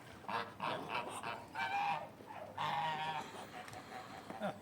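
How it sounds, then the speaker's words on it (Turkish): Several native Turkish geese honk in repeated bursts at moderate distance, loud nasal calls coming one after another with short pauses between them. "Bunlar yerli Türk kazı bak"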